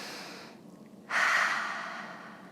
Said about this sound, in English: take the nice deep breath for me